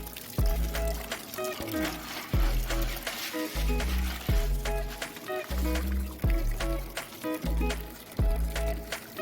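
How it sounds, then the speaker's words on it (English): Water pours and splashes over lava rocks being rinsed for a fish tank, coming in repeated bursts with brief pauses between, fairly quiet and close. "Just want to give it a quick rinse, to get any debris, any fish food, any particles off of it."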